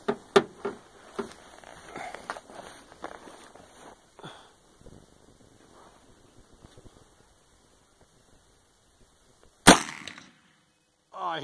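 A single loud, sharp rifle shot from a Marlin 1895 lever-action in .45-70 with a 22-inch barrel cracks out near the end, after a stretch of quiet outdoor background with faint rustling.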